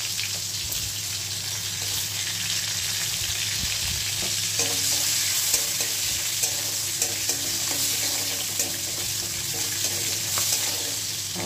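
Chopped onion fries with cumin in a pan, giving a steady dense sizzle throughout. Light stirring clatter and soft scraping run under it, growing more frequent toward the end.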